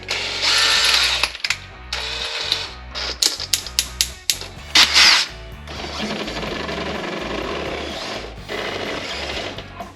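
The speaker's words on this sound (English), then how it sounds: "To do that, I have to drill these out a little bit more, I think." A drill bores out screw holes for rib nuts during a car dash rebuild, loud and close, in choppy stop-start bursts that settle into a longer continuous grinding whir.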